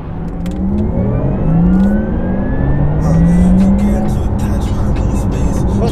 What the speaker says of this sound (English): Again, let's hear for the gear change.